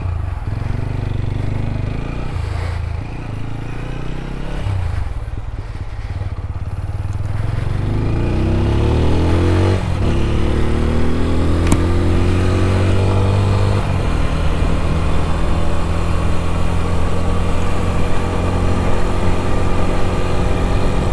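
A Dafra TVS Apache RTR 200 motorcycle engine runs loud and close while being ridden, revving up through rising pitch sweeps and settling into a steady drone.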